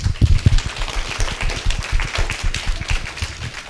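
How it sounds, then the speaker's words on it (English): A children's audience applauds after a puppet show at a classroom program, dense close clapping with uneven rhythm lasting a few seconds. "applause."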